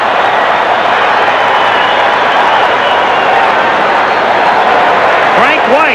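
A stadium crowd at the 1986 MLB All-Star Game roars steadily and loudly after a deep home run to center field, a dense continuous wash of cheering throughout, with an announcer talking over it.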